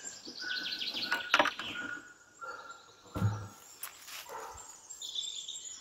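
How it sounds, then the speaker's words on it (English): Several birds chirp and warble close by in short, varied phrases, with brief gaps between calls and a soft low thump near the middle. "The birds were singing along there and everything."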